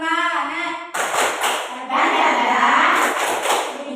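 A class stands and performs a rhythmic clapping chant, the tepuk semangat, during a school training session: close, loud claps in patterned bursts mixed with voices chanting along.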